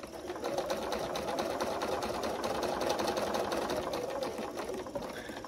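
A sewing machine stitches quilt fabric squares with a fast, even, continuous mechanical chatter, close and steady throughout without a pause.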